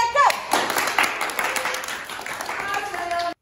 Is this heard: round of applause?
yes